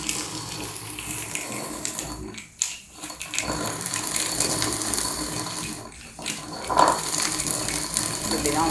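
Unpolished toor dal (pigeon peas) being broken by hand makes a continuous gritty, rattling grind, close and fairly loud, with two brief dips in sound where the motion pauses.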